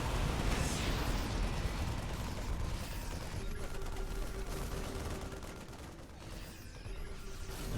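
Heavy booming fire from StarCraft 2 siege tanks pounding a base, a dense continuous battle roar with repeated impacts and a steady tone running through the middle.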